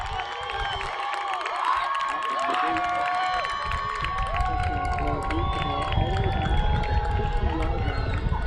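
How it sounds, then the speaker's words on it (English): Crowd noise rises at a high school football game between Quartz Hill and Lancaster, Eagles fans cheering and shouting in the stands during the second quarter, a steady roar of voices with whistles and a band under a commentator's talk. "crowd getting excited here in the second quarter"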